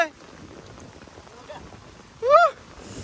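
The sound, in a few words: rain falling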